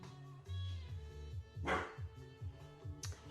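A dog barks repeatedly in short, loud bursts at close range, with a couple of sharper yips among them and no voices alongside.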